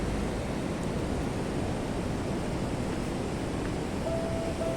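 Large ocean waves at Watu Karung beach in Pacitan, a continuous loud roar of surf and wash with no distinct breaks, close by.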